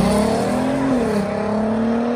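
Audi TT with a 3.2-litre engine, its exhaust holding a steady, loud drone that wavers slightly in pitch throughout, with no voices over it.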